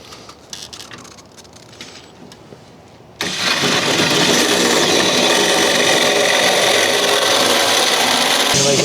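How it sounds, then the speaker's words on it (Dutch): A power drill bores a hole in a motor yacht, starting abruptly after some faint handling noises and then grinding on loud and steady, close by and without letup. "Victor gaat boren hier."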